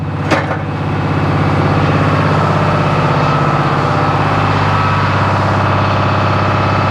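The engine of a sawmill setup idles before the power takeoff is engaged for sawing, a steady, loud, low mechanical hum throughout.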